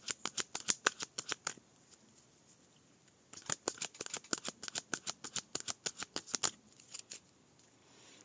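Tarot cards are handled and drawn from a deck, producing crisp rapid flicks and snaps in two bursts separated by a short pause, close and clear against a quiet background.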